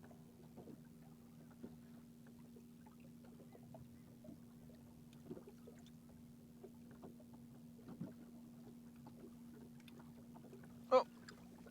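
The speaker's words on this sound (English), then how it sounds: "Slowly turn the boat." Low steady motor hum from a fishing boat turning slowly on the Tennessee River, faint and continuous, with scattered small knocks and one sharp clunk near the end.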